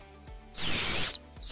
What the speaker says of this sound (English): a little bit of hump whistle at the end there